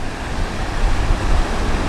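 Waves wash against the Lake Michigan shore at the dunes, a steady broadband surge with gentle swells, fairly close, blended with some wind noise.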